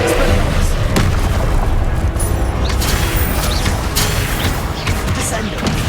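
Booming spell blasts from the Confringo curse in the Hogwarts Legacy game, rolling explosions and crackling impacts piling up continuously amid loud combat noise, with shouted voices over the fighting.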